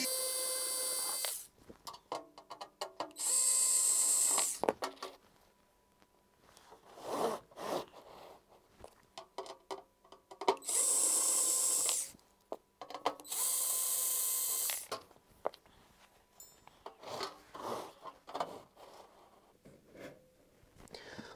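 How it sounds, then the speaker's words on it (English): Screws being backed out of the case of a Sony PC-1271 unit, heard as several loud, buzzy ratcheting bursts of a few seconds each, separated by quieter handling clicks and pauses. "There are remaining four screws to get the case off,"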